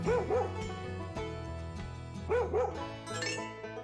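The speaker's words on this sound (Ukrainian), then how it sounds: "Це пес" A dog gives two quick pairs of short yips, separated by a pause, over soft background music.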